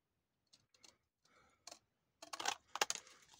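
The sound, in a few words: scissors cutting paper label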